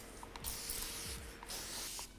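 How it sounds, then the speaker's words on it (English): A handheld spray bottle mists water onto hair in a few quick, hissing bursts, close and fairly soft, with no talk. "So we're just gonna spray them down."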